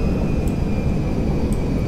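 A Boeing 747 jumbo jet in the game GTA 5 gives off a steady, loud engine roar with a thin high whine running through it, plus a couple of faint ticks.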